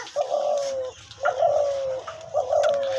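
A caged hunting dove, a ghughu offered for sale, coos three times in a steady, evenly spaced rhythm, each deep call close and clear against a quiet background.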